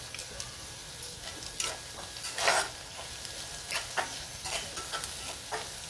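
Slit green chilies and onion fry in a pan, giving a faint sizzle under repeated stirring scrapes and light clicks of a spoon against the pan, with no voices.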